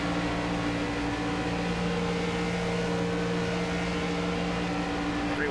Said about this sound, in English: You can hear the RPMs jump up.